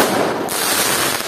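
Diwali sky-shot fireworks burst overhead in multiple colours. A loud, dense wash of crackling blasts runs through the whole stretch with no pauses.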